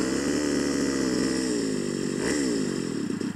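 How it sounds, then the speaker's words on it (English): Gasoline engine of an RC trainer model airplane burbling close by, a buzzy, steady drone with a slight pitch wobble partway through before it starts to fade at the end. "I'm nervous about this engine burbling"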